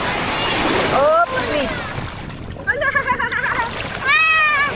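Waves splash at a beach resort in Iba, Zambales, a steady watery wash that swells and breaks under nearby children's and adults' chatter.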